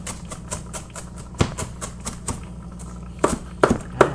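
A knife chopping vegetables on a cutting board for a chunky beef soup garnish, giving a quick run of sharp, close taps that break off, then a few louder, isolated chops near the end.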